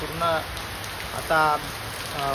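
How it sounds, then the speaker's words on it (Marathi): Heavy monsoon rain pours steadily outside a shop in a village, a dense continuous hiss with a voice rising briefly over it a few times. "पण आता परत पाऊस आला आणि एवढा आला की तुम्ही पाहू शकता"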